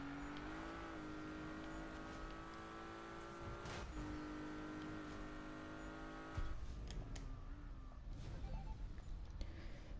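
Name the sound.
Porsche race car engine driving in Need for Speed 2015 video game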